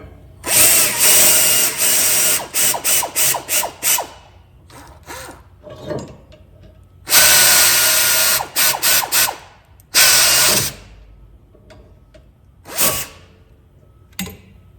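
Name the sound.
air ratchet loosening brake caliper bolts on Honda Accord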